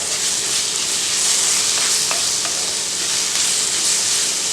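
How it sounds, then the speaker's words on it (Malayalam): Ginger, garlic and slit green chilies fry in oil for fish molee, a loud, even sizzle and hiss with a few faint spoon clicks as they are stirred, no voices. "പച്ചമുളക് ഇങ്ങനെ കീറിയിട്ട് ആഡ് ചെയ്ത് കൊടുക്കുക. നന്നായി ഒന്ന് ഇളക്കി യോജിപ്പിക്കുക."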